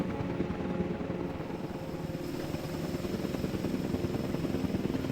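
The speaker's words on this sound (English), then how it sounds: "you can't really show on those helicopters that they're picking up vehicles" Helicopters lifting vehicles, a steady loud rotor thrum with a dense low rumble that continues throughout, with no speech.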